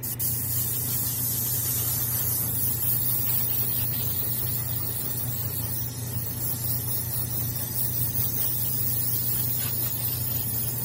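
A steady, continuous hiss of spray paint on a 1/4-scale figure runs unbroken throughout, with a low hum underneath and no talking.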